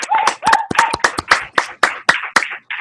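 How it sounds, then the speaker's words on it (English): Scattered clapping from a few people over a video call, a dozen or so sharp claps in loose rhythm, close and fairly loud, with thin compressed tone and brief vocal cheers mixed in. "Give it a round of applause."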